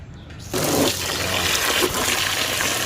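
Water suddenly gushes and keeps pouring steadily into a container, filling it for washing solar panels, loud and close with no talk.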